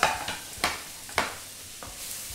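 Onion stir-fries in a kadhai for Schezwan fried rice, giving a soft, steady sizzle broken by several sharp scraping strokes of a spatula against the metal, close and fairly quiet.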